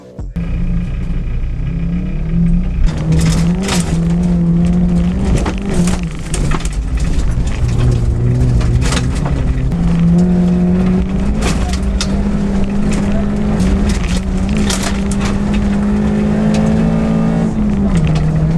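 Classic Mini rally car engine running hot on a bumpy dirt stage at Greystoke Rally, a loud sustained droning roar with pitch shifts as it revs, rattles and thumps from bumps, and voices talking over it.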